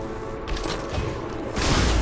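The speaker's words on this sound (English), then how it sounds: "let's get our ranged units firing" Ranged units open fire in Civilization Beyond Earth, a short burst of muffled blasts and mechanical gunfire that swells into a louder crash near the end.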